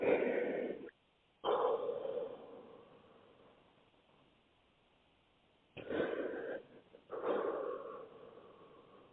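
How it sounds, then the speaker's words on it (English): Slow deep breathing exercise: two long breath cycles, each a strong near inhale or exhale followed by quieter sustained airflow, separated by pauses. "Breathing with you."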